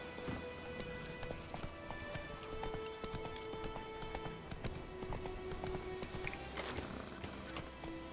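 A horse gallops in The Witcher 3: Wild Hunt, with steady rapid hoofbeats under game music and ambient tones, moderately close and fairly quiet throughout.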